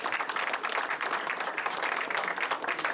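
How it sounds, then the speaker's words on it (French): Audience at a trading fair's trading-duel event applauding referees and supervisors: continuous, moderately loud clapping from a crowd, steady and unbroken throughout. "je voulais tenir à les remercier et les applaudir bien fort, les arbitres et les superviseurs"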